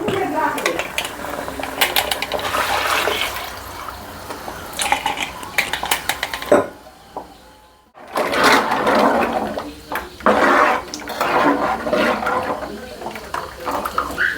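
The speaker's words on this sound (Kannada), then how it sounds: "ಇದಕ್ಕೆ ಇವಾಗ ನೀರು ಹಾಕ್ತಾ ಇದ್ದೇನೆ." Water is poured into a hot curry pan of frying colocasia root, a fairly loud splashing and sizzling rush that stops briefly midway and then resumes, with some clinking of utensils.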